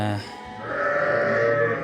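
Young male lambs bleat on a farm, with a few short, close calls in quick succession over a steady background.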